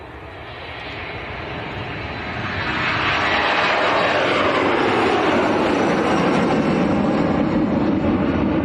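A Jet2 airliner taxiing out at Leeds Bradford Airport, its jet engine roar swelling from a moderate rumble to a loud, sustained close-range whine and rush as it passes, with no talk.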